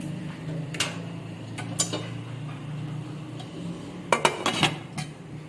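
A lid clinks onto a pot of zarda sweet rice set to steam on low heat, a few sharp metallic clatters and taps over a low kitchen hum, the busiest cluster near the end.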